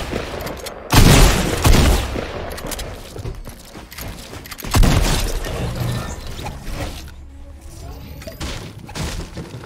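Video game gunfire in a solo-versus-squads battle royale match: two loud bursts of rapid shots several seconds apart, followed by quieter mechanical clatter, with a player talking.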